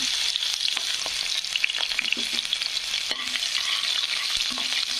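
Onion frying with mustard seeds in a pan for a dry potato dish, a steady close sizzle with stirring scrapes and occasional pops.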